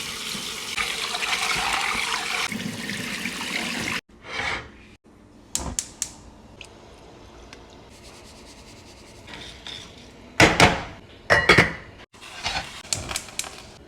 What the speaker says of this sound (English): Wash your rice.